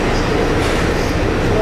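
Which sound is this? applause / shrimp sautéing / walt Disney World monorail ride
walt Disney World monorail ride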